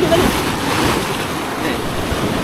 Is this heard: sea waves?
yes